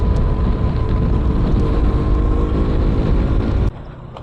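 A car driving in third gear with a steady, loud engine drone and wind rush throughout, cutting to a quieter hum near the end, with no voices.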